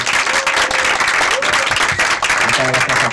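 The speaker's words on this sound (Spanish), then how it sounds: "Yo sí pediría un aplauso para Pablo, por favor." Audience applause at an association event, loud continuous clapping from a crowd, with a few voices rising over it toward the end.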